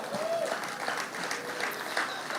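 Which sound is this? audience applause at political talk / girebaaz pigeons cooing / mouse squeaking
audience applause at political talk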